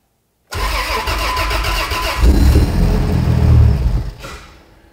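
A Toyota Land Cruiser 80 Series engine cranks and fires up loudly and close by, surging into a rough, heavy idle before the revs drop away near the end.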